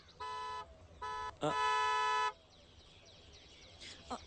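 A car horn sounds in three blasts, two short toots followed by a longer held honk, loud and close, then quieter background noise with a faint bird-like chirp near the end.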